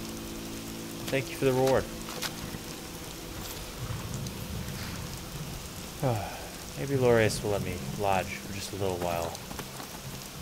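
Steady rain patters in the fantasy game Avowed, a continuous wash under two voices talking in dialogue throughout.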